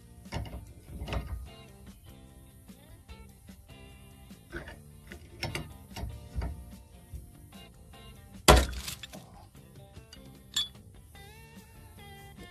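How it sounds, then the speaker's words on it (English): A heavy-duty bearing puller from a diesel mechanic's kit works on a boat trailer wheel bearing, giving faint ratcheting and gear-like mechanical clicks, with one sharp loud metallic knock partway through and a smaller one near the end. "So I've got a bearing puller on out."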